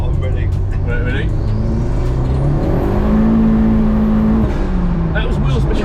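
A 270 bhp Mk1 VW Golf GTI with a 1.8T engine revs up hard in second gear, pulling with rising pitch, loud and close inside the cabin, with people talking excitedly over it.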